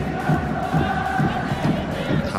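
Yokohama F. Marinos supporters roar and chant in a football stadium, a dense, steady crowd din with rhythmic swells, heard from a distance and filling the whole span.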